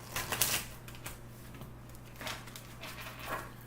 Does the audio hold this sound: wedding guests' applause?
no